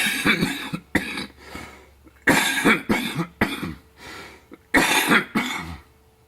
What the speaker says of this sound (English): I get on the video and I start coughing